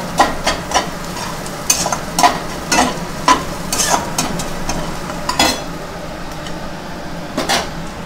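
Spices being stirred together in a kadhai while making poha: a run of scraping, clinking spoon strokes, some sharp and some softer, against a low sizzle, with no voices.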